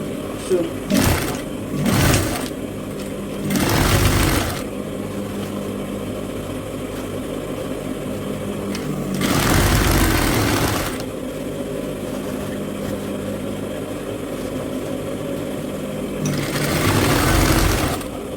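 A sewing machine runs in several bursts while stitching Ankara fabric along a marked 5-inch line for a pleated ruffle turban cap. Each burst is loud and steady, with quieter motor hum and faint handling noise between them.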